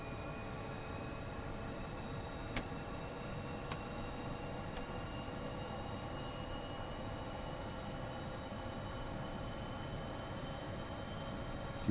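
Jet engines of an F-14 Tomcat in a flight video game spool up in a steady, quiet whine with layered high tones, with a few faint clicks over the constant drone.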